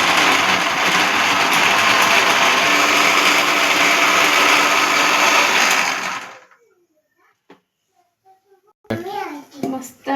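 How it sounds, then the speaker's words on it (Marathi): A mixer grinder purees four cut tomatoes for pav bhaji, a loud steady whirring roar for about six seconds before it winds down and stops, followed by quiet and then a voice talking. "बोलू मी हे कापलेले टमाटर मिक्सरला लावते"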